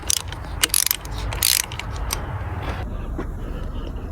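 A ratchet wrench loosening coil-pack bolts on a VW Mk7 GTI during a spark plug job, with rapid bursts of sharp metallic clicking, close up, followed by quieter mechanical handling noise.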